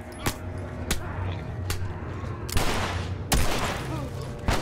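Sharp single gunshots from The Last of Us Remastered on Grounded difficulty, in a subway section, crack out at uneven intervals, about five loud, close reports with a brief denser flurry near the end and faint voices underneath.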